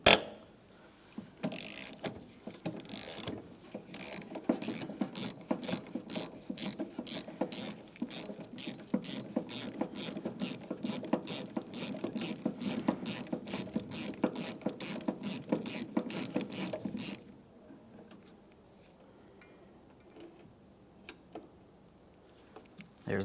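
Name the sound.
ratchet with swivel loosening 13mm door hinge bolts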